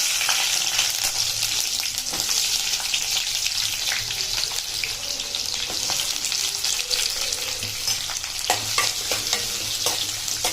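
Onions fry in hot oil for a village-style mutton head sambar, giving a continuous loud sizzle broken by repeated scraping and clinking as they are stirred in the pan.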